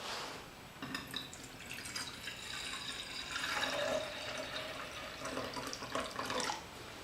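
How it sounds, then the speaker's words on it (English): Water poured from a measuring cup into a bottle during an Esbit stove cooking demo, a steady trickling and splashing stream lasting several seconds at close range with no talk. "We're going to put 1 cup of water in this,"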